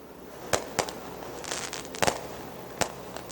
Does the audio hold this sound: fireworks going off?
yes